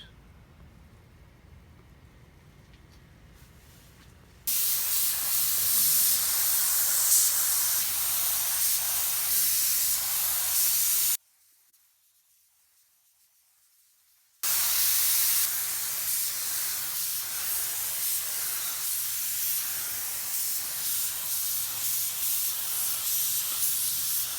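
A spray gun lays clear coat on a Jeep Rubicon in two long bursts, a loud steady hiss close by, separated by a few seconds of near silence and preceded by a quieter room hum.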